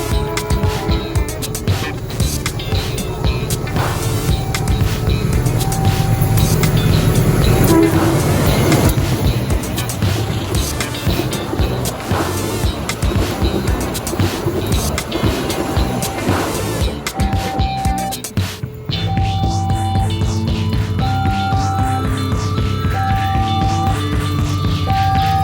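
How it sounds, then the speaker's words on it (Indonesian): Pandanwangi passenger train, number 492, running from Ketapang Banyuwangi to Jember, passes Argopuro station with a loud, sustained roar and rumble of wheels on rail, steady horn-like tones coming and going throughout. "segera melintas di depan kita rangkaian kereta api Pandanwangi dengan nomor 492"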